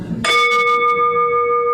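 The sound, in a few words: bell rung to open a meeting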